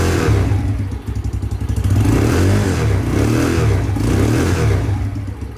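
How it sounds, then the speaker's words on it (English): A cheap Chinese motorcycle bought from Amazon idles with a rough, clattering thump, then gets a few blips of the throttle that swell and fall back, its vibration rattling audibly up close. "Let me just fire her up really quick, give her a little bit of a rev"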